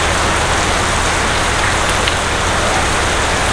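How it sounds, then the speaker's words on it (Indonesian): Heavy monsoon rain pours down in a dense, loud, unbroken roar that stays constant throughout, with no talk. "Dan hujannya bukan gerimis, hujan deres."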